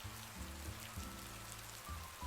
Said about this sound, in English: the rain continuing to pour, forming small rivers down each window pane